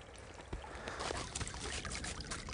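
Water drains away from a house and pasture, a faint, steady trickling and gurgling with soft splashes, quiet and close.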